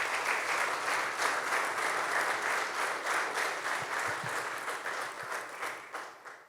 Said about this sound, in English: please a round of applause for the infrastructure team